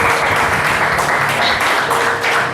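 A church congregation applauds during a Mother's Day sermon, producing dense, steady, continuous clapping that fills the space with an even wash of sound and no clear pauses.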